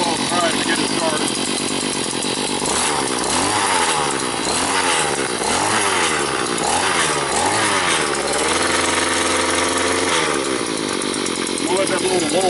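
A Harbor Freight Predator 6-inch gas auger's small engine runs loud and close, its droning pitch rising and falling as the throttle is worked, then settling to a steadier hum.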